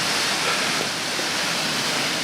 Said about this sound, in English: this is the waterfall that comes down from up the top there